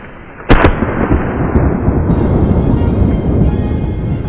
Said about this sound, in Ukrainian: І зробила влучний постріл, що приніс їй такий омрійний трофей.